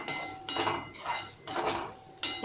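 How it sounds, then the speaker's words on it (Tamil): Spoon or spatula stirring grated coconut roasting in a pan, four or five bright metallic scrapes and clinks in a steady back-and-forth rhythm, close and moderately loud, with no voice. "தேங்காவை நல்லா ஒரு ரெண்டு நிமிஷம் நல்லா வறுத்துக்கலாம்."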